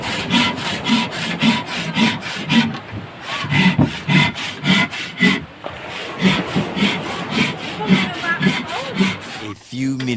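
A hand saw cuts through wood in steady rhythmic back-and-forth strokes, loud and close, briefly pausing mid-way.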